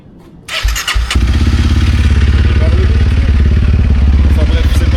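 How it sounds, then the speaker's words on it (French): After a click of the ignition key, a small engine cranks with a few thumps and catches, settling into a loud, steady, close idle chugging. "je tourne le contact"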